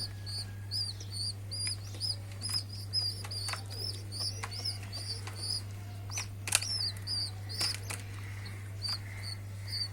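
A pigeon feeds its two chicks, and the chicks give rapid, repeated high peeping calls over a steady low hum, with a few soft wing flutters and knocks.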